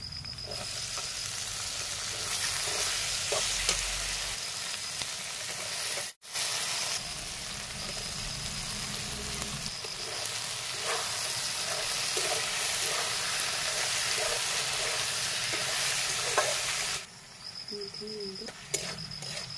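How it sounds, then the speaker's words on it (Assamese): Steady sizzling of taro stems with turmeric frying in a pan, with occasional scraping as they are stirred, continuous for most of the clip with a brief break. "এতিয়া এনেকৈ লৰাই লৰাই ঢাকন মাৰি মই ভাজি ল'ম।"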